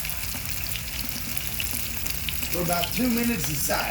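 Ahi tuna steaks fry in a hot pan with a steady, close sizzle throughout, and a brief voice speaks over it near the end.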